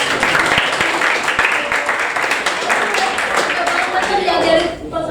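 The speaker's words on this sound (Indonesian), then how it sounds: "Tepuk tangan untuk Krista" A crowd claps in a dense, continuous burst of applause that holds steady for several seconds before tapering slightly at the end.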